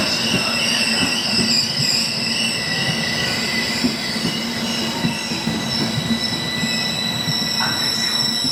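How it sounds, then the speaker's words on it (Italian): Train passing through Milano Rogoredo station in the rain, with a steady close rumble, squealing wheels and high metallic ringing throughout, and faint rhythmic wheel clacks underneath. "Treno di transito al binario 8."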